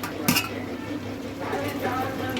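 A spoon stirs spice powders (cinnamon, chicken masala and biryani masala) into chicken biryani in a pot at home, with scraping and clinking against the metal, one sharp knock near the start, and a voice speaking in between.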